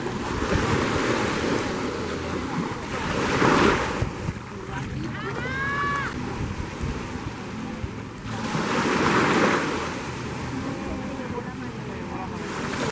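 Surf on a quieter, less developed stretch of beach on Grand Cayman in the Caribbean, with waves breaking in two loud surges amid constant wash and wind noise on the microphone; a brief tonal chirp passes midway.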